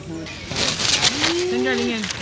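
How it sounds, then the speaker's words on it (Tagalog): Birds call around a camping resort, with cooing, dove-like gliding notes and brighter chirps heard close by, mixed with nearby voices. "Panay na naman ang huni."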